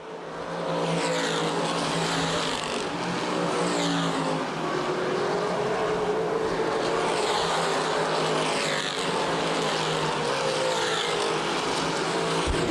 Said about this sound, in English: 4 laps to go, 26 in for Jeff Lane, racing 3 different divisions tonight